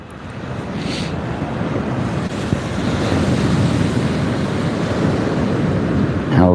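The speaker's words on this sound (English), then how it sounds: "There's nothing quite like the sound of the ocean, is there?" Ocean waves and surf rolling in at sea beside a fishing kayak, a continuous loud wash of water with heavy wind noise buffeting the microphone and gradually building in intensity.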